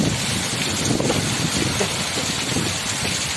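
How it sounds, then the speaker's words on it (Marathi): Strong, gusty monsoon wind during a village rainstorm roars continuously as a broad, loud rush. It buffets the microphone and runs over steady rain, with no voices. "बघा वारा पण सुटलंय, सोसाट्याचा वारा सुटलाय."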